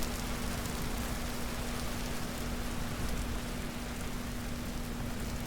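Steady rain falls in a video game, a soft even hiss of drops with a constant low hum beneath, quiet and unbroken.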